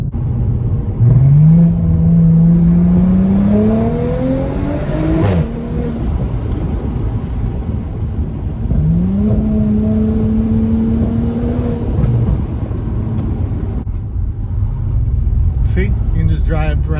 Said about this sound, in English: you can just drive around nice and quiet, windows open, through the neighborhood